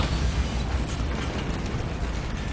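A Bombarda spell explosion in Hogwarts Legacy, heard as a dense, rumbling blast that roars steadily and loudly throughout, with crackling debris on top.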